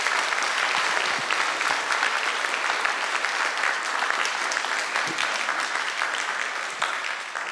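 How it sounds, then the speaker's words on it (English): An audience at a Chinese New Year celebration concert applauds an organizer, dense sustained clapping that stays loud and even throughout, fading slightly at the end. "Can we give her a round of applause right now?"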